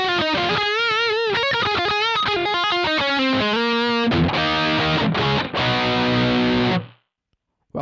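Boss GT-100 guitar patch set to a 4x12 speaker cabinet: a heavily distorted electric guitar plays a quick melodic run, then strummed sustained chords, before ringing out and stopping abruptly.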